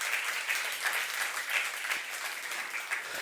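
A church congregation applauds during a Saturday youth worship service, a dense, steady wash of many hands clapping together at moderate distance, with no speech over it.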